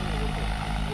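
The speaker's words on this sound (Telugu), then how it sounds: "డ్రోన్లో స్ప్రే అయిపోయింది. ల్యాండింగ్ చూడవచ్చు." Agricultural spraying drone flying nearby, giving a steady, loud propeller whir and engine-like hum that holds without a break through the moment, with no voices over it.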